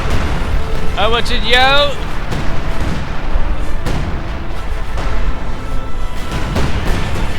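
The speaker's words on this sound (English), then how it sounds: "Soviet mortars firing away, clearing out the field gun" Soviet mortars fire in the real-time strategy game Company of Heroes 2, a handful of dull booms thudding at intervals amid battle noise, mostly under a commentator's continuous talk.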